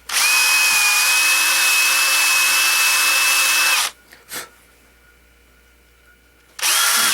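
A power drill with a bit runs loud and steady for about four seconds, stops with a couple of brief clunks, then starts again near the end.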